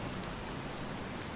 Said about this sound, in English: It's just a bit of rain.